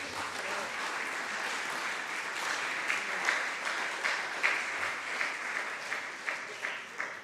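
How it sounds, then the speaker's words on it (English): Conference audience applause at a digital heritage summit, sustained clapping from a hall crowd for about seven seconds, with a few sharper individual claps standing out near the end. "May I ask a round of applause for these three speakers?"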